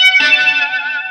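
A distorted electric guitar sustains bright, layered notes drenched in delay and echo during a live guitar solo, ringing steadily and loud with no voices.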